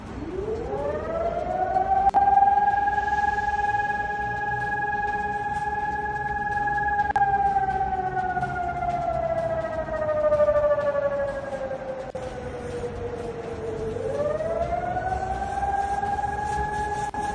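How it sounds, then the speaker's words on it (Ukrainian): An air raid siren sounds during a test of the Kharkiv alert system, a long wailing tone that holds, slowly falls, then rises again, loud and steady over distant city ambience. "на цьому тижні в Харкові затестили диференційовану систему повітряних тривог, яка буде окремо оповіщати про загрозу для міста"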